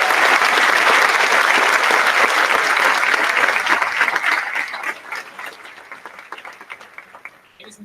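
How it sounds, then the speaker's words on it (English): A high school commencement crowd applauds the educators, loud dense clapping that gradually thins and fades into scattered claps toward the end, with some cheering voices mixed in. "Please join the class of 2019 in a well-deserved round of applause for these educators."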